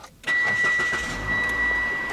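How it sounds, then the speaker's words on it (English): A car's engine starts and settles into a steady idle with the air-conditioning fan running, a constant whine sitting over a low hum, close by and fairly loud after a brief quiet moment. "Now what we're gonna do is we're gonna turn on the car."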